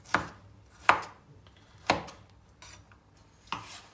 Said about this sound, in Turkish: Evet, son salatalık dilimlememe geçtim.